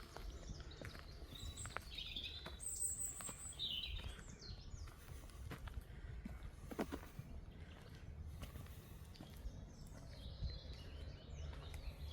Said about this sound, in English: I keep picking up a little bit of road noise.